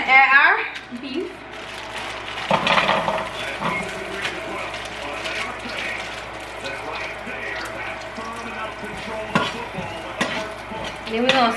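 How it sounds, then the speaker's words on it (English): Beef frying in sizzling oil while being stirred, a steady crackling hiss with scraping stir sounds throughout, under intermittent talk. "The oil is sizzling now, so I'm gonna add our beef."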